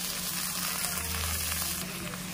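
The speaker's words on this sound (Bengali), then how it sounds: "পেঁয়াজগুলো মিডিয়াম ফ্লেমে ভেজে নেব, বেশি লাল লাল করা যাবে না। এবার জিরে আর ধনিয়া একসঙ্গে বেটে রাখাটা দিয়ে দেব।" Steady frying sizzle from onions cooking over medium flame as a ground cumin and coriander paste goes into the pan, a continuous close hiss running alone without any talk.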